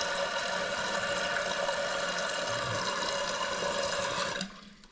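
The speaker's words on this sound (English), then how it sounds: "Now we want to make sure that the toilet has filled up to where it was." A household toilet tank refills after a running-toilet repair, water rushing and hissing steadily at close range before cutting off abruptly near the end.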